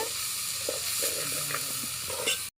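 Broad beans with turmeric fry in a pan over a village wood-fired stove, giving a steady close sizzle with intermittent scrapes of stirring and no voices.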